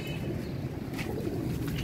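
Captive pigeons coo softly on a rooftop, low throaty murmurs repeating under a steady ambient hum with a few faint higher chirps.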